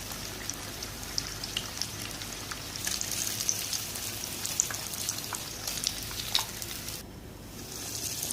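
Green chillies frying in hot oil over a medium flame, a steady crackling sizzle with scattered sharp pops, dropping to a softer hiss near the end.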